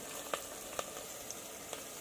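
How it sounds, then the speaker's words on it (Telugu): Onions sizzle in a pan with fenugreek seeds and other seasoning spices, a steady soft frying hiss with occasional faint pops and ticks, fairly quiet and with no voices. "ఉల్లిపాయలు ఇవైతే బాగా వేగాలి"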